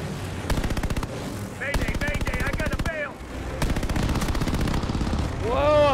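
Bursts of rapid machine-gun fire in Call of Duty: Vanguard during an aerial fight, several long loud volleys separated by short pauses, with whining engine or fly-by tones sweeping over them.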